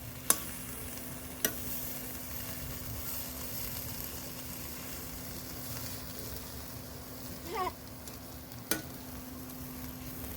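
Leafy greens (shak) fry in a pan with a quiet, steady sizzle, broken by a few sharp clicks and scrapes of stirring, heard close but faint.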